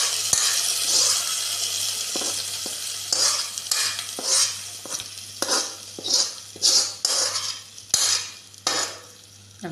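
Tempered mustard seeds sizzle as they are poured into a plantain pulissery curry, with a steady hiss broken by repeated rhythmic scraping strokes of a spoon against the pot.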